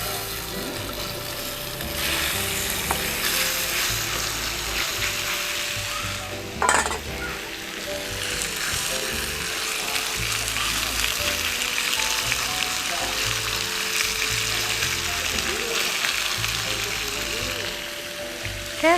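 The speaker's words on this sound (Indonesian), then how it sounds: "Karena kita betul-betul mau masak sapi ini dengan panas yang cukup tinggi." Beef sears in hot oil in a pan over high heat for a beef stroganoff, giving a steady loud sizzle with occasional stirring clatter and a sharp knock, and a person speaks faintly beneath it.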